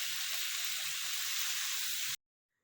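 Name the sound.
boiled eggs frying in a pan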